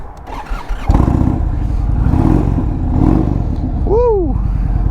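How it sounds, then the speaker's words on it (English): A 2019 Indian Chieftain Dark Horse, custom-built, fires up with its exhaust rumbling loudly and close, then revs in swelling bursts over a steady idle, with a rising squeal near the end and some faint voices underneath. "Let's go ahead and crank her up and hear this exhaust though."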